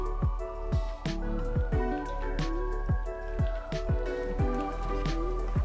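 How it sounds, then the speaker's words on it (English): Butterfly shrimp being stirred into wet batter in a bowl, with soft wet squishing and dripping sounds in an irregular rhythm, close by, under steady background music. "dump your butterfly shrimp into the wet batter and give everything a good mix"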